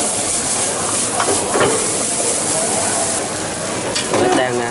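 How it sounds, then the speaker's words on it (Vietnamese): Okra and meat stir-fry in an oiled pan, giving a steady loud sizzle and hiss with occasional scraping stirs and bursts of spitting that run through the whole stretch. "cái chảo thịt và bắt đầu xào cái đậu bắp với lại thịt."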